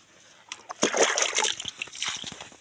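Water from a dipper splashes and trickles onto eggplant plants in a garden, a brief splattering pour that builds quickly and then fades into scattered drips, close and fairly soft.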